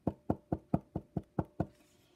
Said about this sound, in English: banging on the desk